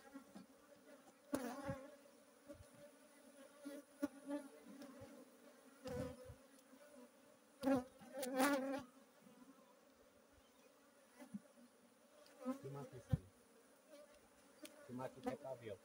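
Honey bees buzz steadily around an apiary hive during box-changing maintenance, a dense droning hum with individual bees swelling louder as they fly close past.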